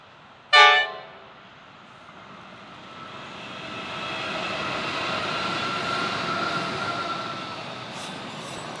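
A sharp horn toot opens, then a quarry freight train rumbles past Jacana station in Melbourne, Australia, with a rising, sustained roar of wheels and cars, moderately distant and steady.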